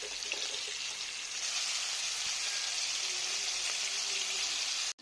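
Sea fish frying in hot oil in a home kitchen, a steady dense sizzle and crackle that holds evenly throughout, close and continuous with no talking, cutting off abruptly at the end.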